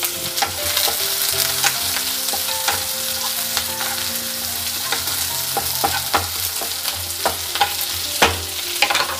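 Thick onion pieces frying in a pan for vegetable stew, a loud, dense sizzle close up with frequent crackling pops and quick scraping stirs throughout, no talking.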